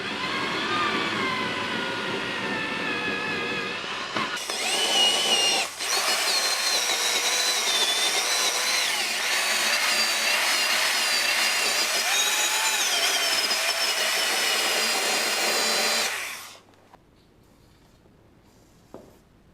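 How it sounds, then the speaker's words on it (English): A wire wheel on a power tool scrubbing rust off a bolt from an X300 riding mower deck, a loud continuous grinding whir lasting about twelve seconds before spinning down, preceded by rougher scraping noises. "I'll just clean this up with a wire wheel"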